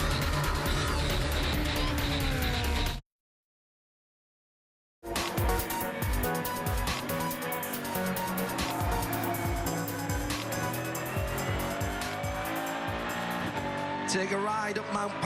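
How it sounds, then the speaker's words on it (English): GT race cars lapping Mount Panorama, Bathurst, during the Liqui Moly Bathurst 12 Hour endurance race in 2015, their engines roaring loud and continuous with passing surges, tyre noise and a voice speaking over the top, broken by a brief silent gap. "The GT cars are out, and the Liqui Moly Bathurst 12-hour continues."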